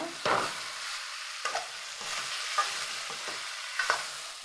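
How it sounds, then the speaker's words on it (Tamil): Boiled broad beans are stirred into a bitter gourd curry in a pan: several separate spatula scrapes and taps over a soft, steady sizzle, fairly quiet. "வேக வச்சதை கொட்டிக்குவோம் கொட்டி நல்லா கலந்துடுவோம்"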